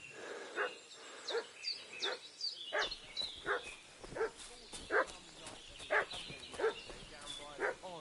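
A dog in the medieval video game Kingdom Come barks in a series of sharp, evenly spaced yaps at moderate distance, repeating steadily over faint background ambience.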